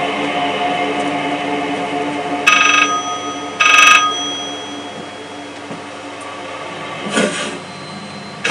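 A telephone rings from inside a drawer in the horror video game Layers of Fear: two short muffled bursts of ringing, then a fainter third, over a steady droning ambience.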